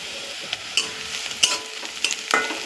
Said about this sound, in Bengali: এটা ভালো করে লাল করে ভেজে নিতে হবে।